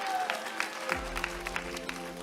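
Scattered audience clapping for a candidate being introduced at a Democratic Party political concert event in Daegu: a handful of separate, evenly spaced claps stand out, with a low music drone starting beneath them partway through.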